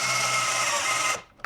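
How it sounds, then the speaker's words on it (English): A cordless drill drives a trailer jack crank in a steady, loud whirring run of just over a second before the motor cuts off and spins down. "get a good grip on your drill, however you're going to hold it, and slowly squeeze it"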